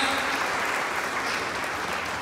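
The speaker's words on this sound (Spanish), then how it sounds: "Un fuerte aplauso a la hermanita, por favor." Warm audience applause at a church service welcoming a newcomer, a dense, even wash of clapping that stays loud for the whole short stretch with no voices on top.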